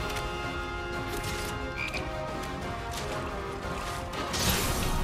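Croaking frog sounds in Final Fantasy VII Remake, layered over music and whooshing effects, with a brighter burst near the end.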